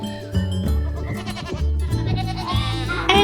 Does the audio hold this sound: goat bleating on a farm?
yes